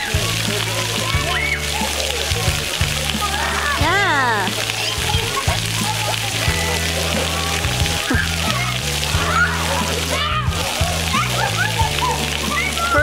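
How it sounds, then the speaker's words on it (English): Water splashes and sloshes repeatedly close by at a water playground, with children's voices and chatter mixed in over the background. "You're gonna dunk your head into the water"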